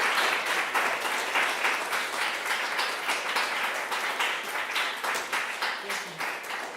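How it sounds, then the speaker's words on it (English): Applause from the audience at a zine fest Q&A, a steady full round of clapping that carries on throughout with a slight rhythmic pulse and some faint voices underneath. "Let's give everyone a big round of applause."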